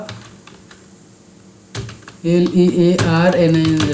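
Keys clatter on a computer keyboard as code is typed, sparse light taps at first, then a close, busier burst of typing alongside voiced sound in the last two seconds.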